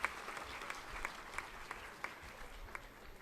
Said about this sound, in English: Let's give him once again a big round of applause.